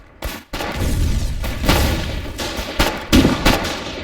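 Gunfire in the war video game Foxhole: several loud, sharp rifle shots and heavy booms in irregular bursts over a rumbling battlefield background, with no voices.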